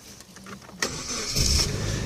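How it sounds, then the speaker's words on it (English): An automatic Suzuki Jimny 1.3 JLX cranks briefly, then its engine catches and settles into a steady, close idle. "Engine sounds spot on, no death rattle or anything like that."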